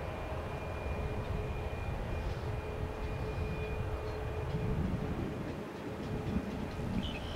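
An airliner taxis over the Bravo Bridge toward runway 19 Right at an airport, giving a steady, distant, broadband jet-engine rumble that holds evenly throughout with no talking.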